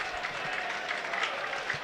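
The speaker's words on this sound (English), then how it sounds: "Applause again for the Norwich subs." A football crowd at a Norwich v Burnley match applauds substitutes, a faint, steady wash of distant clapping with no single claps standing out.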